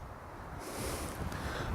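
Wind rushes hard during a parachute jump, a broad, steady roar that grows louder and harsher partway through, close to the microphone with no voices.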